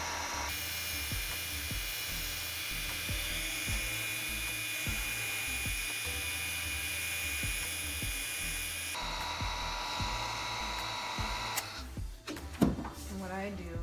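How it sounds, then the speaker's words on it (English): A heat gun or hair dryer blows with a steady high whine and rushing air throughout, close up, melting candle wax, with faint clicks and brief handling noises near the end. "what you're gonna grab is your heat gun or blow dryer"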